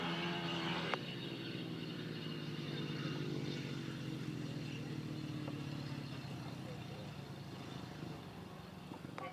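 Motorcycle engines at a 2019 grasstrack race meeting drone and rev at a distance, a sustained layered whine with shifting pitch under faint crowd and announcer noise.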